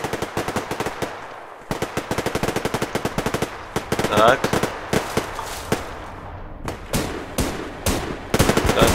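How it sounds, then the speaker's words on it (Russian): Rapid automatic gunfire in the multiplayer shooter Survarium during a team battle, with dense bursts of close, loud shots and short pauses between them, and a brief voice speaking over the shooting. "Слушайте, кто там так стреляет, как из пушки?"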